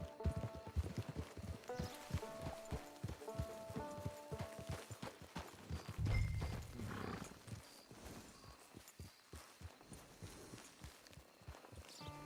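Horse hooves clop in Red Dead Redemption 2, a steady run of close, rhythmic hoofbeats over the game's ambient outdoor sound, easing slightly toward the end.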